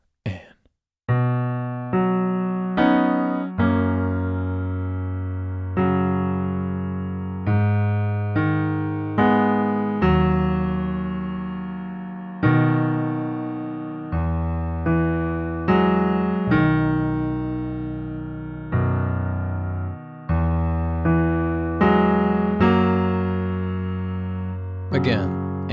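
Slow piano rendition of the intro to a song, with sustained, ringing chords and bass notes struck one after another at an unhurried, even pace, loud and clear without talking.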